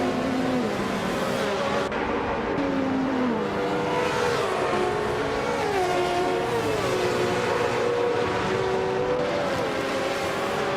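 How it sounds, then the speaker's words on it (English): In a racing video game, the engine of a 1988 Mitsubishi Starion race car whines steadily and shifts pitch as it accelerates through gears, with other cars droning alongside. "Hymise is driving a 1988 Mitsubishi Starion"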